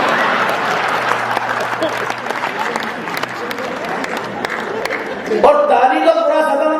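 An audience applauds at a comic Hindi poetry recital: a thick, continuous burst of crowd clapping that fades as a voice begins speaking near the end.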